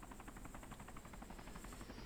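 Helicopter in the DayZ video game, a steady rhythmic rotor chop with pulsing blade beats over a constant engine whine, fairly loud and continuous throughout with no talking.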